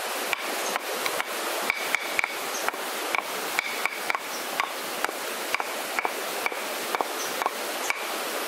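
A stalk of an aren palm's flower bunch is beaten to start sap flow, with a steady series of soft wooden knocks, roughly two per second, over constant outdoor hiss and insect buzz.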